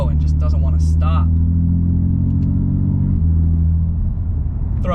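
A BMW M3 CS in Sport Plus mode pulls hard with a loud, steady, low engine drone whose pitch shifts partway through, while someone talks over it from inside the car.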